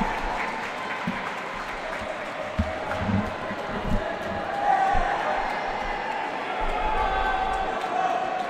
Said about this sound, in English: The She-Devils bench is cheering